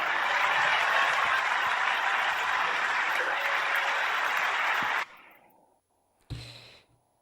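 Audience applause at an Italian conference on violence against women: dense, steady clapping from a large crowd that stops abruptly, followed by quiet and a brief noise.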